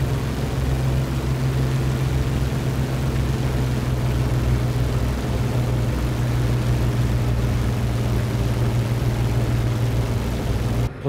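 Twin propeller engines of an XF11 aircraft in a flight simulator roar at full throttle during takeoff, a loud, steady low drone with a constant buzzing hum that sustains without a break.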